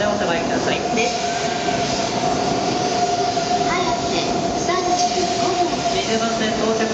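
An E2 series Asama Shinkansen from Nagano arriving at a Tokyo Station platform: a steady mechanical rumble with faint squealing tones, while station announcements play over it.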